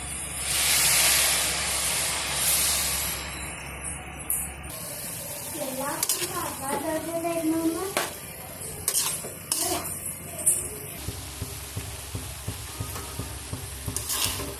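Milk poured into grated carrots fried in ghee for carrot halwa: a loud hissing sizzle bursts at first, then subsides into bubbling and scraping stirs of a spoon against the pan, with a few clinks.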